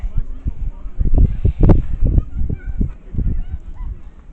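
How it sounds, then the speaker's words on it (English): Geese honk repeatedly in a steady, busy chorus in a donkey sanctuary field, fairly close, with a person talking over the calls. "also there are lots of birds that come into their field"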